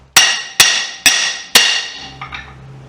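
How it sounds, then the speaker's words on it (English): A hammer knocks a steel drift through the eye of a hammer blank on a bolster: four loud ringing metallic blows at an even pace, followed by two lighter taps. "I'm knocking my drift through"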